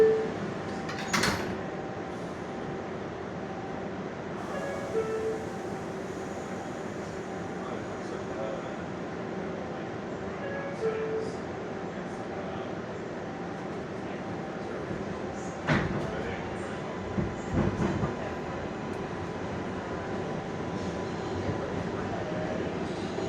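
An R142A subway train bound for Bowling Green on the 4 line closes its doors with a couple of sharp thuds over a steady rumbling hum of motors and rails, while announcements play faintly.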